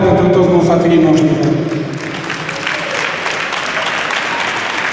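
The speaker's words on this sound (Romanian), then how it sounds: "Felicitări, aplauze pentru toți musafirii noștri" Applause for guests at the 2012 Adrian Șomlea Cup football tournament award ceremony, a steady clatter of many hands with some voices and cheering mixed in at the start, fading slightly but continuing.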